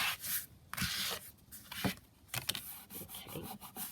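A plastic reward card used as a glue spreader rubs and scrapes across background paper in quick, close, quiet strokes, with brief pauses between them.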